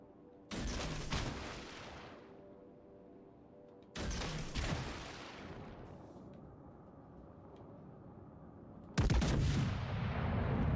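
Battleship guns firing high-explosive shells in World of Warships Legends, three heavy booming salvos spaced a few seconds apart, each a loud blast that rumbles and fades, with the last one the loudest.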